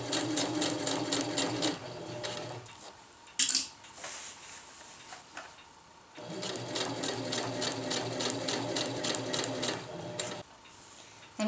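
A sewing machine stitches a winter tarp ridgeline in two long bursts with a rapid mechanical chatter, separated by a quiet pause with light handling noises.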